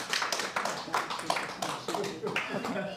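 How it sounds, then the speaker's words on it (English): An audience applauds after a talk, with irregular, moderately quiet clapping from a modest crowd and talking mixed in throughout. "join me in applause for this talk"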